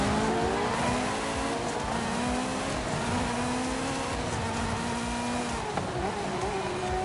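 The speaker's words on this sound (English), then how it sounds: "When you're in first person, this thing sounds like an F1 car." High-revving car engine in a first-person driving video game, a car with a 10-speed gearbox that screams like an F1 car, whining loudly and continuously with shifting pitch and faint tire squeal, no talk.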